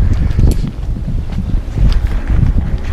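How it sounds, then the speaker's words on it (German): Strong, icy wind by the water roaring and buffeting a microphone continuously, with low rumbling gusts and no voices. "windig. Könnt ihr ja hören hier."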